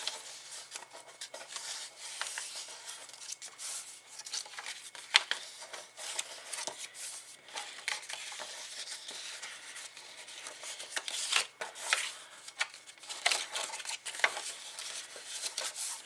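A sheet of acetate being folded and creased by hand for a pansy-themed 3D craft piece, giving a steady crinkly rustle with sharper crackles scattered through, close and fairly soft, no talking.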